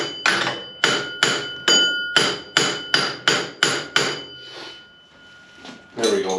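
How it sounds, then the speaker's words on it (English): Hammer pounding a go-kart brake drum on its axle, about ten sharp ringing metallic strikes in a steady rhythm, close and loud, followed by a brief quiet pause and a final clank. "we're going to pound that brake. I guess you call that the drum."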